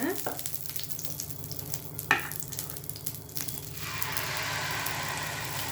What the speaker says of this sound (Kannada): ಈಗ ದೋಸೆ ಹಾಕೋಣ